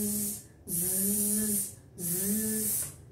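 A voice imitates a buzzing bee, making two drawn-out zzz sounds separated by a short pause, close and fairly soft.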